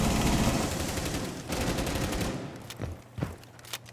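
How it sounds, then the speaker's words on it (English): Rapid automatic gunfire in a Rainbow Six Siege–style shooter, with a glitched weapon sound, a dense burst of shots that thins into a few separate cracks, loud and close with no talk. "oh, bugged out gun sound."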